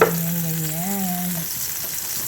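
Bread frying in Star margarine in a pan, a steady bright sizzle with a short wavering tonal whine during the first second and a half, then just the even frying hiss.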